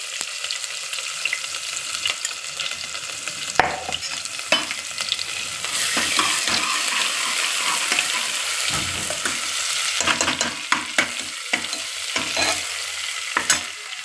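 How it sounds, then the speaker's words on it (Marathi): Cumin, asafoetida and ginger-garlic paste sizzle in hot oil with a dense, continuous crackle, broken by occasional sharper spatula clacks and stirring, close up and alone. "जिरे पण आपली छान तरतरत आहे त्याच्यात आपल्याला हिंग टाकायचं आहे"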